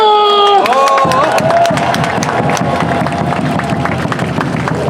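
At a KT Wiz baseball game, a stadium crowd cheers and applauds the manager for setting a record, a dense roar of clapping and shouts after a brief tone, continuous and loud throughout.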